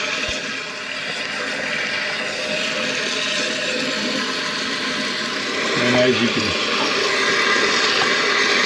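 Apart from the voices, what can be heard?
toilet tank filling with water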